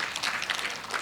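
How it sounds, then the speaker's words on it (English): An audience at the IATSCON conference applauds Dr. Rajiv Anand, a brief, faint, dense patter of distant clapping. "Give a big clap to Dr."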